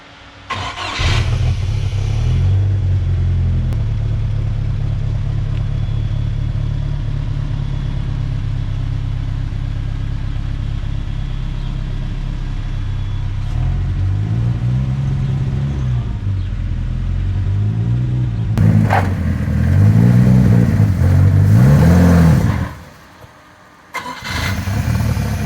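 A Chevrolet S10 pickup swapped with a big-turbo 3.0L Mercruiser boat engine runs loud and steady, with rising and falling revs as it pulls away in first gear, then cuts off near the end.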